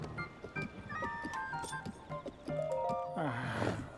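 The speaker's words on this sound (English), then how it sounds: "Here's your horse." A horse in Zelda: Tears of the Kingdom neighs and its hooves clip-clop near Lookout Landing, game sounds over a melodic tonal backdrop with a louder whinny at the end.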